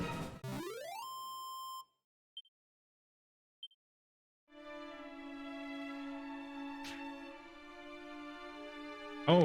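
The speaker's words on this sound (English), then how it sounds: "That is the sound of Kiirat dying to poison." Synthetic Dragon Quest 2 HD-2D Remake tones for a character dying to poison: a descending chime, two short blips over silence, then a sustained buzzing electronic drone with a brief glitchy burst.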